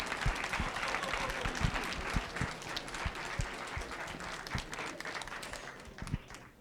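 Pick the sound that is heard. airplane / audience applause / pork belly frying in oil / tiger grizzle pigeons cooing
audience applause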